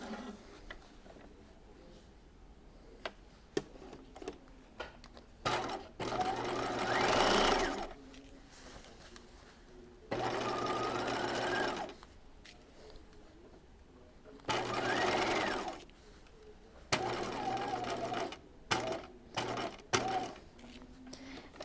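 Sewing machine stitching a dress, several distinct runs of rapid, steady mechanical whirring separated by pauses filled with soft clicks and fabric handling.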